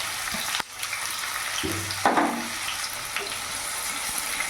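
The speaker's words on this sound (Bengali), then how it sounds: "এবার পেঁয়াজটাকে আমি লাল পর্যন্ত ভেজে নেবো, যতক্ষণ না এটা বাদামি রং হচ্ছে" Finely chopped onions fry in a pan, a steady low hiss and crackle with a couple of brief stirring clatters and scrapes, close and moderately loud with no talking.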